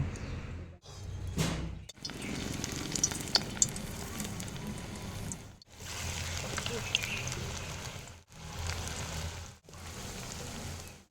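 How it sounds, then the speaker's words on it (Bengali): Mustard flower fritters frying in hot oil one by one, a steady dense sizzle broken by brief gaps where batter goes in, with faint clinks over the crackle. "এবার এক এক করে ভেজে নেব"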